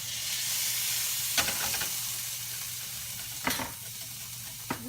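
Onions sizzle and fry in melted ghee as a steady, bright hiss, with a few stirring scrapes breaking through now and then.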